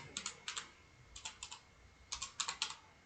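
Keys on a computer keyboard clack in short bursts of quick taps, three clusters separated by brief pauses, close and fairly quiet.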